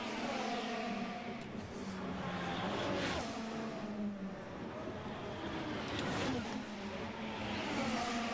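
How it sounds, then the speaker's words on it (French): Formula 1 car at the Saudi Arabian Grand Prix street circuit during practice, a steady engine roar running the whole time, with some swells of revving and a faint commentary voice underneath. "Il arrive dans le dernier virage, Pierre Gasly."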